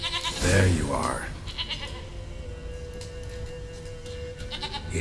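A goat in The Witcher 3 gives a loud bleat at the start, followed by fainter repeated calls over soft in-game ambience.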